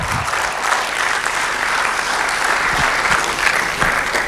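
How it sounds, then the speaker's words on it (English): Loud, sustained applause from the audience at an inter-medical-school public speaking competition, a dense continuous wash of many hands clapping throughout. "I think we should give him a round of applause."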